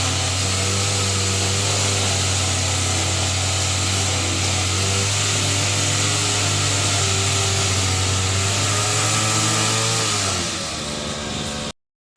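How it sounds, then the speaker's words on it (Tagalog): A petrol grass cutter trims grass in a home yard, its loud, steady engine drone running without pause and dipping slightly just before it cuts off. "Dahil grass cutter yung pinagamit ka."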